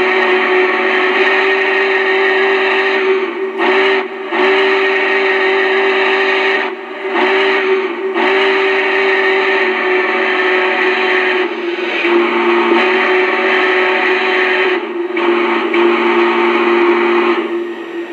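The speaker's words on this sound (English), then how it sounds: "let's check out the whistle" A loud, steady whistle from a Lionel Brass Hybrid N&W K2 model steam locomotive blows in several long blasts with brief breaks, shrill and sustained throughout.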